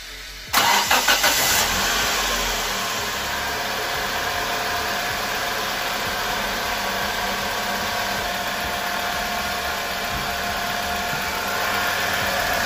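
A car engine cranks over and catches near the start, then settles into a steady, fairly loud idle that runs on alone for the rest of the stretch, with no talking.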